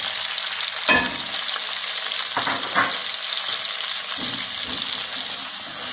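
Chicken frying with spices in a pan for chicken nihari, a steady close sizzle with occasional stirring scrapes and louder bursts as ingredients hit the hot oil.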